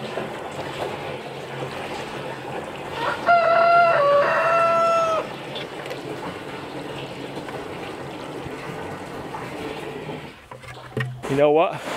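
Backyard chickens in a coop cluck and crow in short bursts, with a clear call rising above the steady outdoor background and a few more sharp calls near the end.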